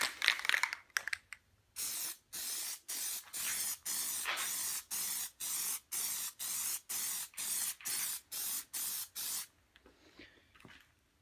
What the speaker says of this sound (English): then we'll spray the next coat on